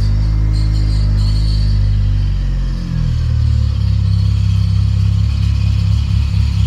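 A Mitsubishi 4G63 car engine idles steadily after a crankshaft and bearing replacement, a loud, close, continuous low rumble with a slight dip around the three-second mark before settling back.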